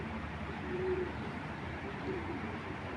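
A female racing pigeon from the BRPFC club, currently breeding, gives two soft, brief coos about a second apart, faint over a steady murmur of background noise.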